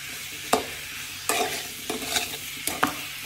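Mango pickle cooking in a pan while a spoon stirs it: several distinct scraping, clattering stirs over a low continuous sizzle, close and with no talking.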